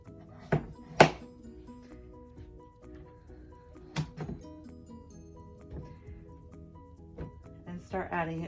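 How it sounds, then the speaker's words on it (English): A few sharp, irregular knife chops cut raw pumpkin on a cutting board at close range, spaced seconds apart over a steady tonal background. "we want to begin cutting our pumpkin up"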